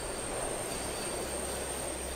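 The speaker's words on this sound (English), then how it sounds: "The other bridge is for the subway." A subway train crossing a bridge, a steady rolling rumble with a thin high whine riding over it, fairly quiet and unbroken.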